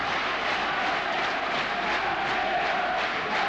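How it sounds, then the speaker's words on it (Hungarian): A packed arena crowd roars and chants in support of the home basketball team during a 1996 Hungarian championship final game, a continuous loud wall of cheering with no breaks. "Csarnok közönsége egy emberként buzdítja a csapatot."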